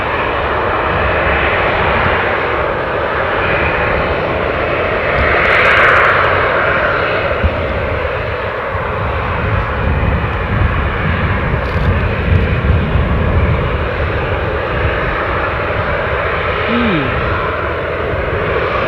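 A plane departing from Newcastle International Airport gives a loud, sustained engine roar that stays close and steady throughout, with a faint voice briefly underneath.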